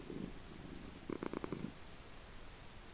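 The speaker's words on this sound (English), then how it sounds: "how you'd be getting a cat purring" A cat purrs in a Minecraft game, a soft rumbling burst near the start and a clearer, rhythmic purr in the middle, quiet over faint background hiss.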